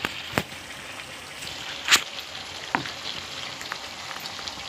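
Chicken pieces fry in a pan for okra meat curry, a steady soft sizzle with a few sharper crackles and pops scattered through.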